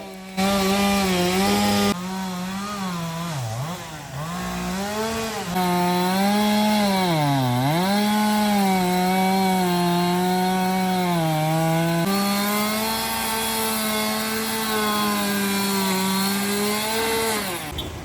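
A fire force chainsaw cuts through a tree that fell across a state highway in wind and rain, its engine droning loud and steady, with the pitch dipping as the chain bogs into the wood.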